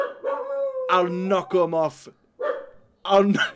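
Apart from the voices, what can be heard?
dog barking in the room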